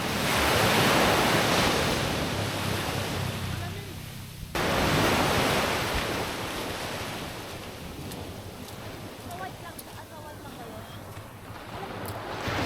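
Surf washes in continuously at El Nido, Palawan, a loud churning roar of breaking waves up close, with wind buffeting the microphone throughout.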